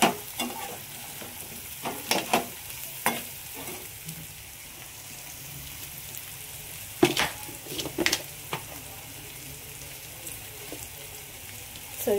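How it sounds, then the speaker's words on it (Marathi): Bananas fry with salt in a pan, a steady low crackle of oil under scattered spoon scrapes and clatters that come in small clusters. "असंच फ्राय करून घ्यायचं आहे."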